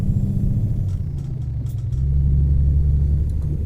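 An International 9900i truck with a long chassis drives along in the American Truck Simulator video game, its engine a steady low, heavy rumble that swells slightly as it pulls, close and continuous.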